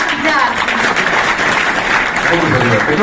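Loud, steady applause from an audience at a live event welcoming a guest, a dense wash of clapping that fills the whole stretch with a voice rising partway through.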